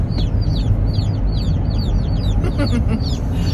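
Many baby chicks chirp in a steady, high peeping chorus over a constant low rumble as they ride in a moving vehicle.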